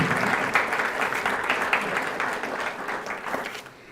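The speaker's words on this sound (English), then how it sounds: "Hold the applause until we recognize the three of them, okay?" Sustained applause from a high school audience at a scholars program information event, dense steady clapping close by, filling the whole stretch with no break.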